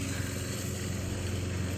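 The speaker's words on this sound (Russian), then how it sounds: "мы уже косим травку" A manual push lawn mower cuts grass in a yard, giving a continuous even whirring drone held close and steady throughout with no pauses.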